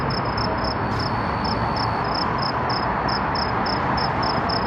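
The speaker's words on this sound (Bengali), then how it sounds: "এটার ভিতরে ঝিঝি পোকা ডাকতেছে," Crickets chirp steadily from small roadside plants and shrubs along a road in front of a library, a high, evenly pulsed trilling that repeats throughout over a dense, constant insect chorus, close and loud.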